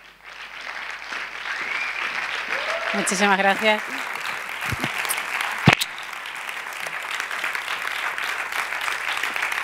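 An evening audience at a twentieth-anniversary event applauds steadily, a continuous wash of clapping throughout, while a voice speaks briefly and a brief sung or tonal phrase rises near the middle.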